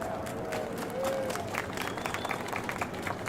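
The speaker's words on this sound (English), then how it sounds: "I would really like to give a big applause to help thank them for all of their participation." Audience applause at a Cherry Blossom Festival event: a steady, dense wash of many hands clapping with crowd noise, sustained and fairly loud throughout.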